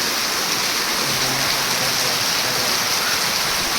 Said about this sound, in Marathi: मुसळधार पाणी सुरू गावात, भक्कम पाणी पडलं गावात